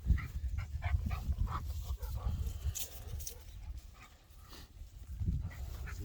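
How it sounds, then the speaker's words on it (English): A farm dog chases a herd of cows at feeding time. Rustling and movement fill the clip, with faint snuffling and scattered thumps. No clear barks stand out. "And then you got the dog trying to chase them."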